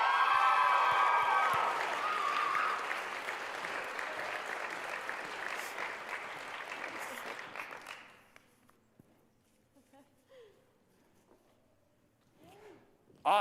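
Audience applause for Miss USU pageant contestants, a dense roar of clapping in a large hall that holds strong for about eight seconds, then drops away to scattered faint claps and quiet movement.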